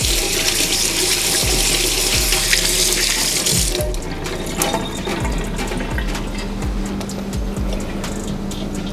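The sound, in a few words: water running from faucet, washing harvested produce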